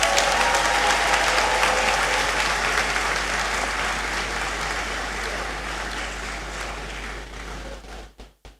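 A round of applause from the audience in the Great Hall at a university congregation ceremony, loud sustained clapping that gradually thins and dies away into scattered final claps.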